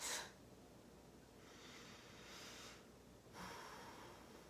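A person takes a deep breath: a quiet opening puff, then a long, soft, airy inhale and a slow exhale, close and faint, with no talking.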